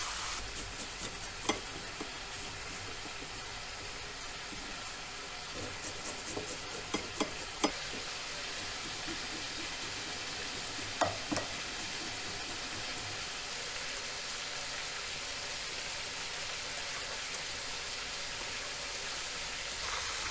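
Steady crackling sizzle of chicken frying in a pan, continuous and close, with a few sharp ticks and clinks scattered through.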